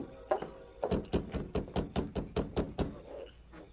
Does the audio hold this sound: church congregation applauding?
no